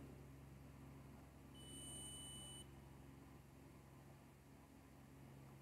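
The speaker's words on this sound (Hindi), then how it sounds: "अभी जो ये बीप की आवाज़ आई है" A multimeter on continuity mode gives a single short, clear beep while testing a capacitor during a mobile fast-charger repair, lasting about a second over a steady low electrical hum.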